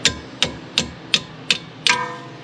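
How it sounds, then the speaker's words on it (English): A hammer strikes a Jaeger socket fitted on a car wheel: six sharp metallic blows at an even, roughly steady pace, close and loud, with the last hit slightly delayed and ringing a bit longer. "We're gonna use a hammer."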